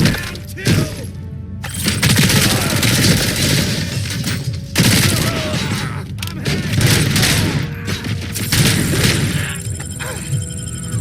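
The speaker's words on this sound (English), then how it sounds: "That's the shooting I was hoping for." Rapid gunfire fills RoboCop: Rogue City, dense overlapping bursts of shots and shattering impacts aimed at RoboCop, loud and sustained with brief lulls, and a voice faintly underneath.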